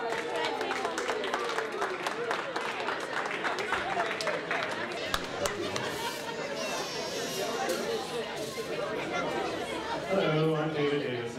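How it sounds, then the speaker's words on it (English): Guests at a family reunion applaud the children who took part, a mix of claps blended with steady crowd chatter and murmuring voices that carries on throughout. "So why don't we give them a big round of applause?"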